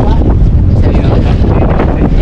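Strong wind blows hard outdoors near a boat on the shore, producing a loud, continuous roar with heavy gusts battering the microphone.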